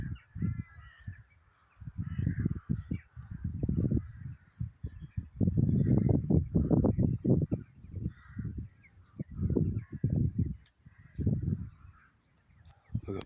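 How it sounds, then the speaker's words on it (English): Birds up in a tree give a series of loud, harsh honking caws in irregular bursts, some close and overlapping, with short pauses between calls. "We've got birds in the tree."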